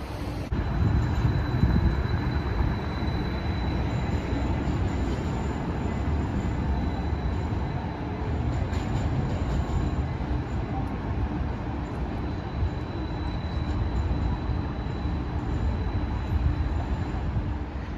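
A steady, loud rumble of a battery-powered streetcar, The Hop in Milwaukee, rolling along, with constant low-frequency drive noise and faint high whine throughout, no talking.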